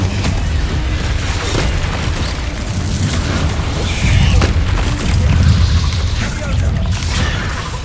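Fiery spell blasts from Hogwarts Legacy combat, a dense continuous roar of bursts and booms with heavier surges midway, loud and close amid ongoing battle noise.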